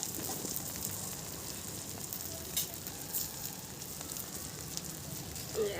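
Egg patoori made with double-yolk eggs sizzles and bubbles steadily in a pan, a continuous close frying hiss with small crackles and pops throughout.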